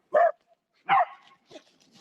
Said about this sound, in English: my dog is way far ahead there